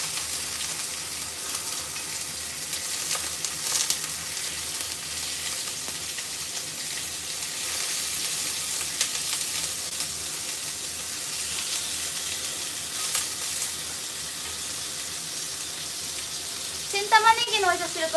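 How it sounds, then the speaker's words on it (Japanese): Onions frying in hot oil give a steady, dense sizzle and spitting crackle throughout, with a brief chirpy sound near the end. "あすごい跳ねる油が。"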